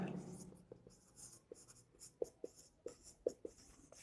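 Pen scratching on paper while working a class 5 maths exercise, a quiet string of short strokes and taps with a teacher's voice faintly underneath.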